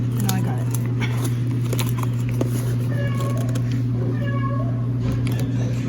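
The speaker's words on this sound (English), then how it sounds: "there's a cat in here?" A cat in a pet store meows several times over a loud, constant store hum, with a short series of meows rising and falling against the steady background noise.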